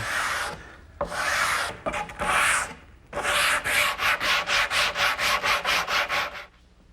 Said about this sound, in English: just keep sanding it until I start to take it down